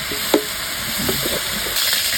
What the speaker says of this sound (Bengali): এটা এখন বেশি করে ভেজে তারপরে বাকি মশলা দিব